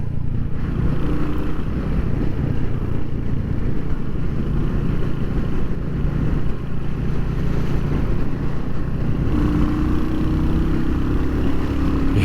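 A Royal Enfield Hunter 350 motorcycle ridden on an outdoor road: a steady, loud, low engine drone with faint wind rush, continuous for about twelve seconds and without any talking.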